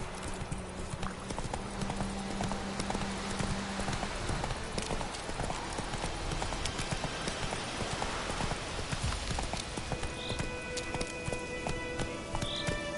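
Roach, the horse in The Witcher 3: Wild Hunt, gallops with steady, rapid hoofbeats that stay loud and close throughout, over a constant rushing background.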